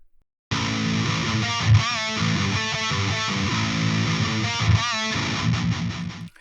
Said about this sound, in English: let's load up another IR. And I want to go for this PV style cab over here.